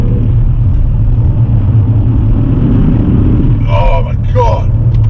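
A BMW M3 on winter tyres accelerating hard, its engine a loud, steady low rumble that holds close and constant, with a voice speaking briefly over it near the end.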